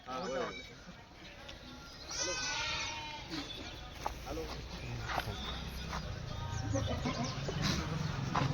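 Several Kathiawadi goats bleat close by in quavering cries, overlapping and repeated, while people talk in the background.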